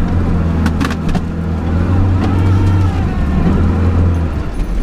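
A Lada Niva grinding along off-road with its centre differential locked, the engine droning loudly and steadily at low speed, with clunks and rattles from the drivetrain and body.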